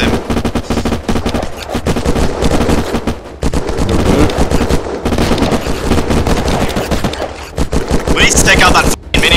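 Maxim heavy machine gun in the Unturned video game, firing long rapid bursts of loud, dense gunfire that barely pause across the stretch, with brief gaps and a final burst.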